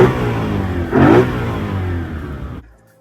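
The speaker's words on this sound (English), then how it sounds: "it kind of accentuates the induction noise from the engine" A BMW E93 M3 engine blips briefly with strong induction roar, one quick rev swelling over a steady mid-pitched drone before cutting off abruptly near the end.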